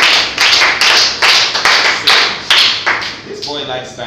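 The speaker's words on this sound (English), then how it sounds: "Give him a round of applause." Schoolchildren at a nursery and primary school clap in loud, rhythmic bursts of roughly two claps per second, close by and together, with voices rising near the end.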